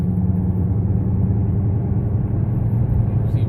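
Steady low road rumble and hum from tires or a wheel bearing on a front-wheel-drive 3.5-liter V6 RT with high mileage, cruising on the highway, continuous and moderately loud with no talking.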